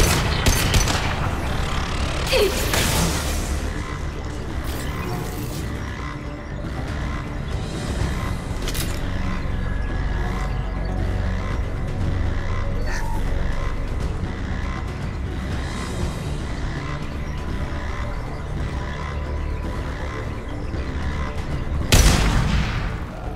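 Near, loud gunfire from the Mass Effect 2 video game comes in dense bursts and sharp blasts over about twenty seconds, with heavy booming impacts and a final loud report near the end.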